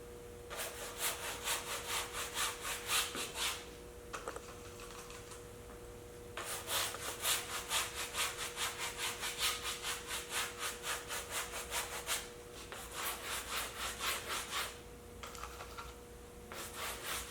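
A size 1.5 bristle brush mixing oil paint on a palette while toning a painting, producing bursts of rapid rhythmic scrubbing strokes with brief pauses between them, close and fairly quiet, with no voices.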